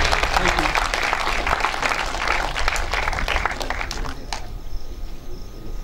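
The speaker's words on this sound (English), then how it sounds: "May we give him some applause again, please." Audience applause at a poetry reading and book release, a dense sustained clapping wash that holds steady for several seconds, then thins and fades slightly toward the end.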